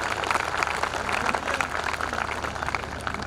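Sustained audience applause at a kavi sammelan, a Hindi poetry gathering marking a bank's silver jubilee celebration, a dense steady crowd clapping that holds at an even level throughout.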